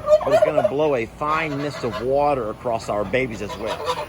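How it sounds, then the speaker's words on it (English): Flock of geese honking and hollering close by, loud repeated calls under and between a person's steady talking, next to a fan and water mister set up for young birds. "all these geese hollering and yelling at me for invading their space"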